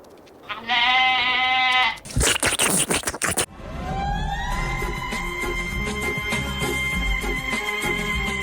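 A goat gives a short nasal bleat, followed by a burst of rough scraping and rustling, then a sustained rising mechanical wail over a busy noisy background.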